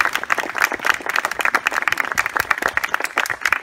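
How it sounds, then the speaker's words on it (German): Scattered clapping from a small audience at a reading or interview event, a few pairs of hands patting irregularly for several seconds, close by and fairly light, with no crowd roar behind it. "klatsch mal."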